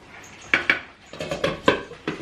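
A metal pot being closed with its lid for cooking, giving several sharp clanks and clatters of lid against rim close by, in quick uneven succession.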